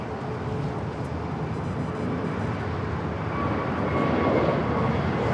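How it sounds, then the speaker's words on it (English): A Spirit Airlines Airbus A321neo takes off at Los Angeles LAX, a steady broadband jet roar that holds level and swells slightly toward the end, with no voices present. "we do have a Spirit A321 now taking off"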